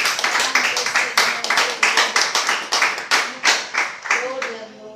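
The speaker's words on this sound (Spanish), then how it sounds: "Démosle una ofrenda de palmas al Señor" A church congregation claps in rhythm, a close, loud run of sharp unison hand claps in a steady beat, with voices calling out among them.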